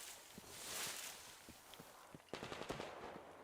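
Gunfire in the video game Metro Exodus: quiet bursts of distant shots and scattered cracks over a low ambient bed, with a denser, sharper volley of rapid shots toward the end.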